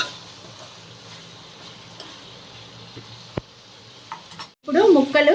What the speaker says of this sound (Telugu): ఇది కొంచెం వేగగానే దీంట్లో మనం నానబెట్టి పెట్టుకున్న చింతపులుసు పోయాలి